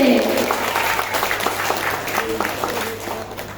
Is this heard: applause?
yes